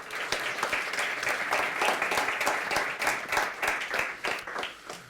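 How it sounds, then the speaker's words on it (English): A quick round of audience applause for John, a volunteer and intern, dense individual claps ringing out close and steady for several seconds before tapering off. "So a quick round of applause for John, please"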